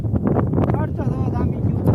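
Steady gusting wind of a mini windstorm with rain in Dhoraji roars against the microphone, a constant low rumble throughout with faint voices buried beneath it.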